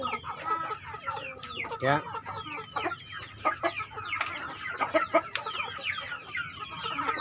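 A breeder flock of young Jago Trah hens, about six months old, clucks and chatters busily at close range in a farm pen, with overlapping calls and a brief voice among them.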